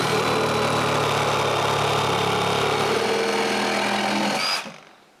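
A power saw cuts the excess off 4x4 wooden posts while rebuilding a cottage dock, a loud, steady whining motor drone that holds for several seconds, then winds down and fades as the tool stops.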